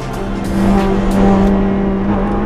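GT race cars launch from the grid at the Dijon-Prenois circuit, a loud dense roar of many engines revving and building together, close and continuous.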